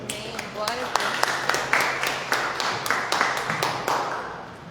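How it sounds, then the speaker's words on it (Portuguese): A church congregation claps in a steady rhythm, with sharp regular hand claps over a continuous spoken voice. "Você que acredita, aplauda ao Senhor."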